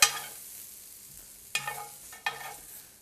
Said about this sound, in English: add my mushrooms, onions, and garlic into my barley